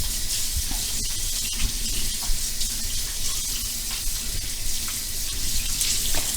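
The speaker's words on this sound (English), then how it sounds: "I have to go wash my hands too." Water runs steadily from a tap while hands are washed, a continuous broadband rush with small splashing variations, close and fairly loud, with no voices.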